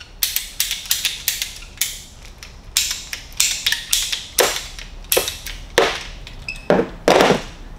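A pipe cutter works through a condensate drain pipe on a Navien tankless water heater install, giving a run of close, repeated ratcheting clicks and creaks in an uneven rhythm.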